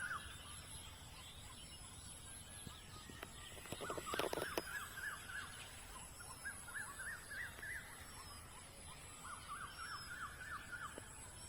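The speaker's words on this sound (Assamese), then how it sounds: "এই চৰাইৰ মাত শুনা পাই আছে" Birds call faintly around a farm in Assam at dusk, giving scattered chirps and repeated short rising notes over a quiet outdoor hum, with a brief cluster of louder calls midway.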